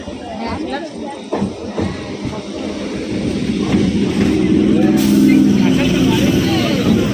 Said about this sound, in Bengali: এই যে ট্রেন ঢুকছে ওইটা দাঁড়িয়ে আছে